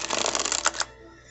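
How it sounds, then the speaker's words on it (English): Tarot cards are shuffled in a quick burst of crisp riffling and flicking lasting under a second, close and fairly loud, then stopping. "We can give it a shuffle. Shuffle those back in."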